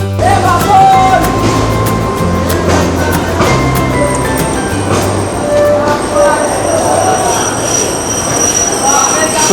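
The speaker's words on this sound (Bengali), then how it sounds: "এটা কিশোরগঞ্জ থেকে আসছে ঢাকাগামী আর কি।" A Dhaka-bound train from Kishoreganj rolls loudly past nearby, its wheels squealing and carriages rumbling, with shrill metallic tones rising over the heavy clatter.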